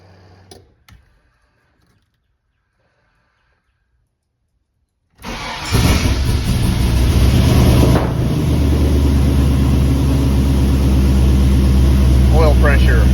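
An LS V8 swapped into a square body truck cranks and fires up after a few seconds of near silence, settling into a loud, steady idle.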